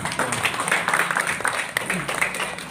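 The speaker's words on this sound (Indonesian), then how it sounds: "Kita tepuk tangan." An audience at an Islamic religious lecture claps together, a dense, fairly soft patter of many hands lasting a few seconds, with voices mixed in.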